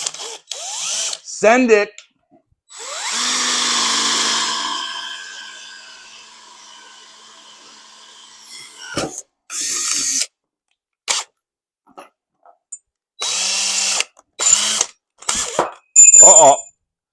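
A power drill bores a 1/4 inch pilot hole for a dirt bike hitch hauler upgrade. It whines in short and longer bursts near at hand, with a sustained run early on, and a person speaks briefly.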